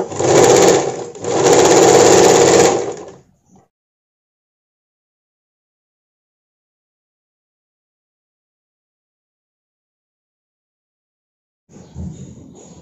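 A sewing machine stitches a sleeveless blouse in two loud, fast running bursts near the start, then falls silent, with a brief softer whir returning at the end.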